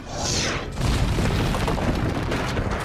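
A deep boom rolls out after a brief whooshing burst, then a dense rumbling roar sustains loudly to the end, like heavy cannon fire from ships' cannons firing at an enemy fleet.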